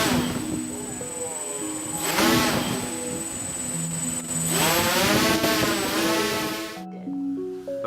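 Motor of a small flying robot spinning up during a lift test, a loud buzzing whine that rises and falls in pitch in two surges before cutting off near the end, with voices mixed underneath.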